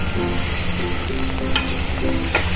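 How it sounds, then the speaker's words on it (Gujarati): Tomatoes tipped into sautéed onions in a pan, giving a steady close sizzle and frying hiss with stirring scrapes and a couple of brief clatters, no talk. "તો હવે આપણે એમાં ટમેટાને ઉમેરી દઈશું"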